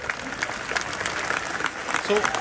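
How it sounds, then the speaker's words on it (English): A dense wash of audience applause, many hands clapping together in a continuous, moderately loud spread with no pauses, with a voice briefly audible near the end. "Who are we applauding here?"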